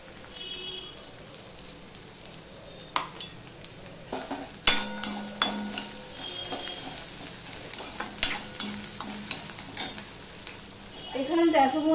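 Chopped onion and green chilli sizzle and fry in a pan while a utensil stirs and scrapes, giving a steady crackling hiss broken by occasional sharp clicks of metal against the pan.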